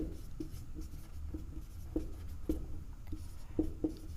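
Pen or chalk writing out a class 10 maths exercise on divisibility, a steady soft scratching with a series of sharper taps and strokes, recorded close with a low room hum beneath and no talk.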